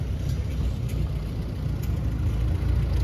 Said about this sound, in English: 1946 Farmall M,